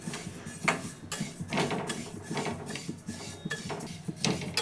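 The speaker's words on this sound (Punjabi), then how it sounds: "ਤਿਲ ਜਿਹੜੇ ਆਪਣੇ ਥੋੜੇ ਥੋੜੇ ਜਿਹਾ ਤਿੜਕਣ ਲੱਗ ਗਏ ਆ" Sesame seeds roasting in a wok for jaggery laddoos give off a dense run of small, close crackles and clinks throughout, lively and fairly loud, with no talking.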